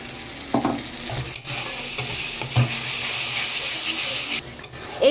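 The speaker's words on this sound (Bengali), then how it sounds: "এইবার এই যে পেস্টটাকে ভিজিয়ে রেখেছিলাম আর টমেটো আর পেঁয়াজ সবগুলোকে ভালোভাবে একটু কষাবো" Soaked spice paste sizzling and frying in an onion and tomato gravy for a small-fish vegetable dish, a steady close hiss with occasional stirring scrapes throughout, no talking.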